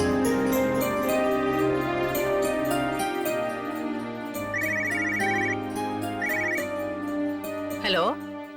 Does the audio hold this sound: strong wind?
no